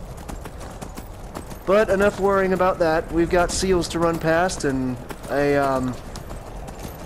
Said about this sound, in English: Our horse ride to the College of Winterhold.